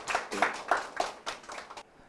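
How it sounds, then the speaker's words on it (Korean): An audience claps to welcome a lecturer at a course information session. The brief, sparse scatter of hand claps is close and fades out after about two seconds. "박수로 맞이하겠습니다"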